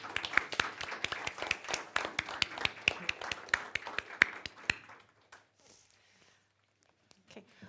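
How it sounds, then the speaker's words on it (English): A conference audience gives a panel on the Arctic a round of applause. The claps are crisp and scattered for about five seconds, then fade out to near silence. "Give our panel a round of applause."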